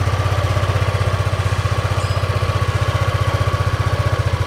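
A Yamaha Aerox scooter engine idles steadily before any tuning, a close, even low putter with a fast regular pulse and no talk over it.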